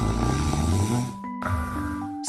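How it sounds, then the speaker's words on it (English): A bear snoring inside a stone cave, with slow, steady, low rumbling snores that carry an echo, loud and close, under a faint tonal background. "Inside, the snores were even louder, echoing off the stone walls in a steady,"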